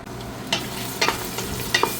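Onion sizzles in hot oil for chicken biryani, a steady soft frying hiss broken by a few light stirring scrapes and clicks of a utensil in the pan, with no talking.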